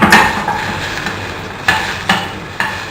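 Chopped green chili and mango pickle sauté in hot oil in a pan for a sweet-sour chutney, with a steady sizzle and several sharp spoon-on-pan taps and stirs, no voices.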